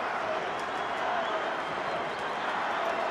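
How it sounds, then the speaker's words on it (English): Raucous football stadium crowd at a Brazil versus France international friendly, a steady dense roar of chanting and cheering that holds at the same level throughout, with no break or lull. "in front of a raucous crowd here"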